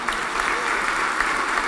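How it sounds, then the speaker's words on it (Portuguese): Church congregation applauding during a service, steady dense clapping from many hands throughout the short stretch with no break. "Você pode aplaudir o Senhor mais forte."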